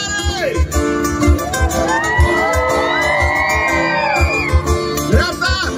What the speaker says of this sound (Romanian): Cei din partea stângă, strigați odată tare!